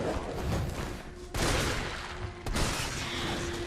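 Two heavy shotgun blasts ring out in Resident Evil 3 Remake, each a sudden loud crack followed by a fading tail, spaced about a second apart over a low game backdrop.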